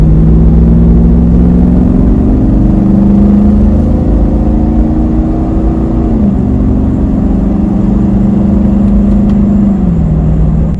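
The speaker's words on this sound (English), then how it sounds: "Yeah, I definitely have an exhaust leak." Hemi-swapped Jeep JK with an exhaust leak at a collector bolt, its engine droning loud and close during a test drive, the pitch climbing slowly then dropping twice as it shifts, with no talking.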